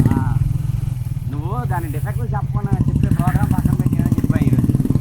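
A motorcycle engine idles with a steady low rumble underneath close, continuous conversation between young men that dominates throughout.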